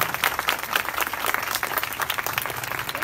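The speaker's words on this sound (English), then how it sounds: "you deserve a round of applause" A crowd at a career coaching session in Hazara Town applauds, a dense, lively patter of many hands clapping continuously at close range.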